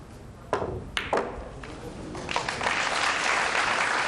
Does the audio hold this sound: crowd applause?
yes